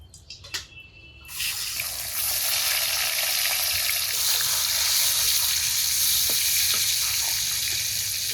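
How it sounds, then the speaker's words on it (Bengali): Fish pieces drop into hot mustard oil in a wok and break into a loud, steady sizzle after a few brief clatters, the frying continuing evenly and close up. "কড়াইতে দিলাম সর্ষের তেল, তেলও গরম হয়ে গেছে। আর যে কয় পিস মাছ 2 বারে ভাজতে হবে।"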